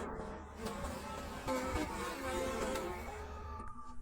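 A dense, continuous buzzing of hornets swarming and attacking a honeybee hive close by, steady and loud throughout with no talking.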